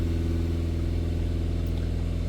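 Audi A6 engine with a heavily blocked diesel particulate filter held at raised revs around 2000 RPM, a steady continuous mid-pitched drone with a firm low hum and no speech.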